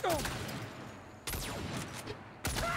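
Enemy machine gun fire in a video game comes as loud, abrupt bursts at the start, middle and end, with sweeping whooshes and a busy rumble between them.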